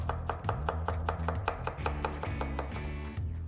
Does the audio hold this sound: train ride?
no